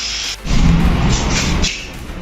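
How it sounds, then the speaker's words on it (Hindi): A hand-operated drill machine compounds the paint surface of a bike during paint correction, giving a close, steady whirring drone that surges in after a brief pause and runs for about a second before easing off. "हमने ये हैंड ऑपरेटेड ड्रिल मशीन से इसको कंपाउंडिंग करने वाले हैं"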